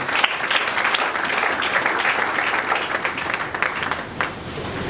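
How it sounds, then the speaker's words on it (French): A church congregation applauding during a service, a dense, sustained burst of clapping from many hands lasting several seconds, loud and close, with some voices mixed in. "Acclamons pour le Seigneur Jésus-Christ"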